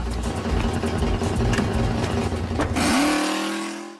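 A prank van's engine runs close by with a rough rumble, then revs sharply and pulls away, its note rising and fading out within a few seconds.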